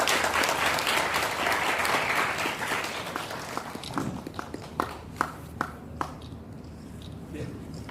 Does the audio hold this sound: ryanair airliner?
no